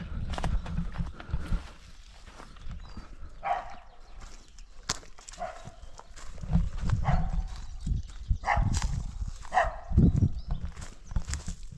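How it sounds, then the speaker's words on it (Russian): Dogs bark in the distance within a forest, short barks recurring at irregular intervals over close footsteps and rustling undergrowth. "Собаки."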